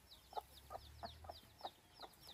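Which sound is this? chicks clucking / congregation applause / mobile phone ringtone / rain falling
chicks clucking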